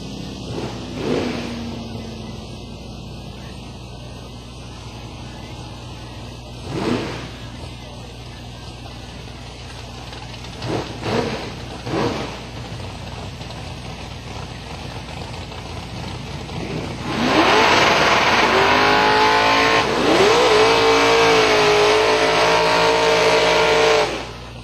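Drag race cars, a Mustang and a Camaro, at Silver Dollar Raceway, with brief engine bursts and crowd noise early on, then a loud sustained launch roar with rising engine tones through the final seconds.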